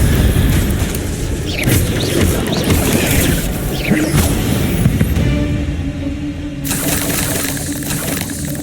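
Incendio fire spell cast in the Hogwarts Legacy video game, a loud, continuous roaring burst of fire and crackling booms that surges, briefly dips, then flares again, with no talk over it.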